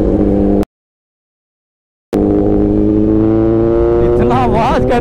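A Kawasaki ZX10R motorcycle engine on a group road ride drones loudly with a steady harmonic tone, cuts out abruptly for over a second, then returns and climbs into a wavering, rising whine as it revs.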